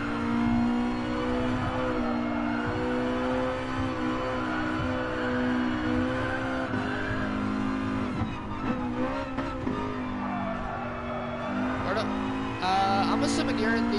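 Racing video game car engine whining steadily under acceleration, a continuous tonal drone with revving shifts, while voices talk over it.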